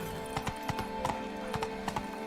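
Horse hooves clip-clop in steady galloping beats in the video game Witcher 3, with the rhythmic thuds standing out over a low, continuous game soundscape.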